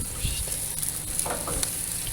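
BBQ ribs sizzle while being reheated, a constant crackling fry with faint scrapes and stirring clinks, close and without talk.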